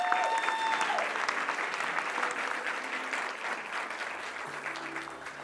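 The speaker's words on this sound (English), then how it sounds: "If you'd give them a round of applause, if you thought this stuff was cool." Sustained applause from a live audience after a talk, a dense wash of clapping hands that holds steady and fairly loud throughout, with a faint murmur of voices underneath.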